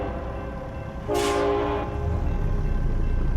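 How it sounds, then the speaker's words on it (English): A train horn in the American Truck Simulator driving game, set in the Oklahoma countryside, blows one steady, loud, harmonic blast lasting under a second over a constant engine and road drone, with no talking. "that horn sounds good on that train"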